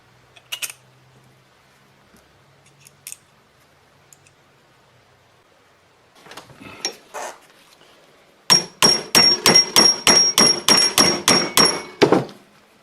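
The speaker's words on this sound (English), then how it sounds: "hold them in the vise and then basically hammer this into the approximate position required" Metal hammer blows on Morris Minor trunnion parts clamped in a vise, a few scattered taps and scrapes, then a rapid run of about a dozen loud, ringing strikes close by.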